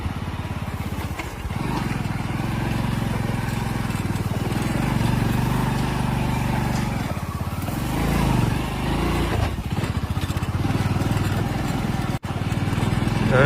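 A motorbike ridden home along a rough path at night, its engine droning loud and steady throughout, briefly dipping near the end.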